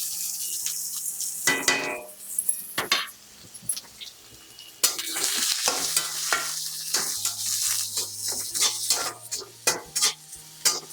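Cumin, curry leaves, green chilies and onion hit hot oil, giving a close, steady crackling sizzle broken by scraping stirs and a few utensil clinks against the pan.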